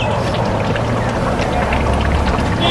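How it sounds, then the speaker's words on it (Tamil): Pot of water at a rolling boil for mutton biryani, a steady close bubbling and gurgling wash that holds unbroken throughout, no one talking. "சைடில் வச்சு தண்ணி நல்லா கொதிச்சுட்டு இருக்கணும்"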